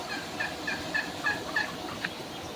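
A farm turkey gobbles in a quick rhythmic series of about seven notes, moderately close, over steady low background noise, with no voices.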